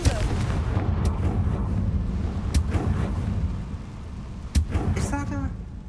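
Fiery Confringo spell blasts in the video game Hogwarts Legacy: a few sharp, loud bursts at uneven intervals over a dense, rumbling game backdrop, with a brief voice near the end.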